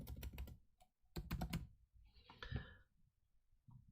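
Someone types a search phrase on a computer keyboard in two quick bursts of close, crisp key clicks separated by brief pauses.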